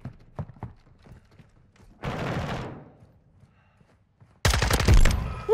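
Bursts of rapid automatic fire from an SMG-AR hybrid weapon in Modern Warfare 2 gameplay, one short volley mid-clip and a louder sustained burst near the end, separated by quieter game ambience.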